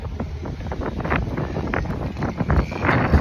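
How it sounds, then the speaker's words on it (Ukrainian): Wind buffets the microphone in gusty, uneven rushes, loud and close, with no talking. "У, вітер."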